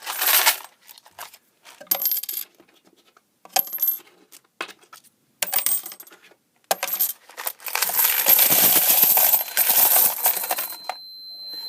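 Metal coins clatter and jingle inside an SG-595 coin hopper, arriving in irregular short bursts, then churning into a longer, sustained rattle near the end, close and fairly loud with no voices.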